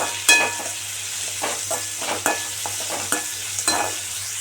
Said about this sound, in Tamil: சேர்த்திட்டு இதை வந்து வதக்கிக்கலாம்